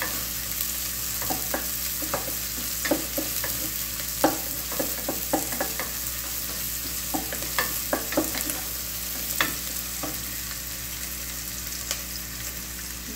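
Onion and green chilies frying in a pan make a constant sizzle, with frequent sharp scrapes and taps of a spatula stirring against the pan throughout, close and fairly quiet.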